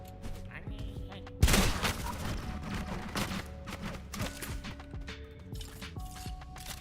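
A sudden loud blast of gunfire in the shooter game Sulfur, followed by scattered shots and impacts over background game music, with someone talking over it.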